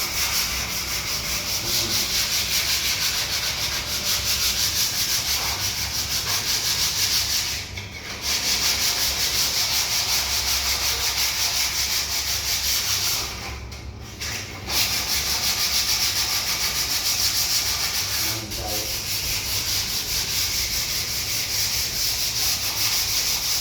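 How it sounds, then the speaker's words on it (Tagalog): Sandpaper rubbed by hand across a surface makes a continuous close, loud scratchy grind, with a few brief pauses between passes and no speech. "Kahit matagal na proseso yan, ang gagawin mo dyan, lilihain mo."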